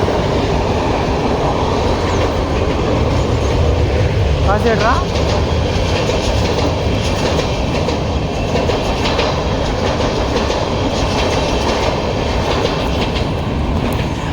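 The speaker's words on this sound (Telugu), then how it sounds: "train going ma'am, train going" A train rumbles past close by with steady clattering wheels and a loud continuous roar, while people talk over it.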